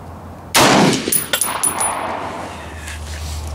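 A single loud rifle report from a Lencac M1A SOCOM fired at a steel post 200 yards away, sharp onset, then a short ringing tail and faint metallic ring-off decaying over a few seconds, with no talk.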